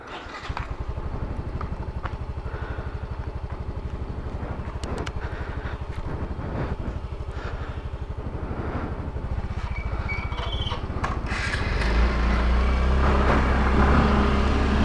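A Yamaha 125 automatic motorcycle is ridden at speed. Its engine drones steadily, with wind rush building toward the end of the ride.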